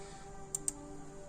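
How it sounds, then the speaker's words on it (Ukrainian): Two quiet, sharp clicks close together from the jammed left button of a broken secondhand computer mouse, with no voices. "Тут лівий клік. Він працює і він працює навіть занадто добре."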